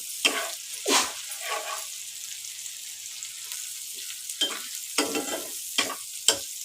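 Beaten egg is stirred in a frying pan with browned onions, giving soft sizzling under repeated scraping strokes of the utensil, a handful of distinct stirs spaced irregularly at close range.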